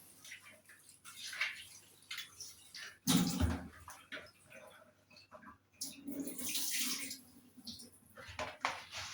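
Food being washed under running tap water in a kitchen sink, a close steady splashing flow with a sharp burst of splashing partway through, fairly quiet overall.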